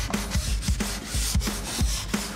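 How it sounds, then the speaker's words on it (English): Wood pieces being sanded by hand with Gator Finishing sandpaper, a close, steady back-and-forth rasping in regular strokes about every half second, with no talking. "The sandpaper works and makes the job a lot more fun and easy."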